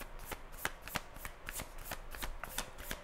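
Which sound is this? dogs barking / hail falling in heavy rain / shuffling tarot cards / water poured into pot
shuffling tarot cards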